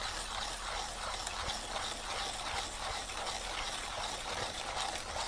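A hand grinder turns with a fast, continuous ratcheting grind. The crunching clicks sound close and steady, with nothing else over them.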